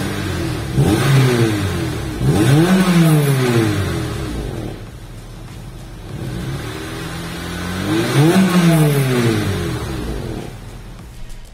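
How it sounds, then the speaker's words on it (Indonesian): A 2001 Japanese-market Honda Civic EP3 Type R engine revs hard twice, each time climbing sharply in pitch and dropping back toward idle between pulls, loud and close with no talking. "suara mesin itu garing banget gitu ya"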